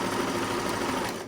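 Sewing machine stitching a fabric face mask, a dense, steady mechanical whir running loud and continuous for just over a second before easing off at the end.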